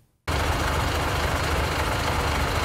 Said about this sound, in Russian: Гул мотора заглушает речь инспектора ГИБДД Александра Погонышева и водителя автобуса 8-